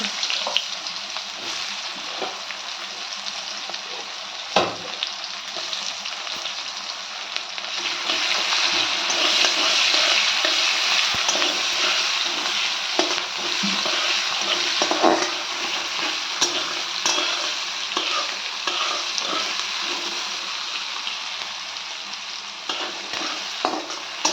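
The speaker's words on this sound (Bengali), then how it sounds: "একটু পেঁয়াজ ফোড়ন দিয়েছি" Onions frying in oil in a pan after a cumin tempering, a steady broadband sizzle with occasional sharp scrapes of stirring, close and continuous with no talk.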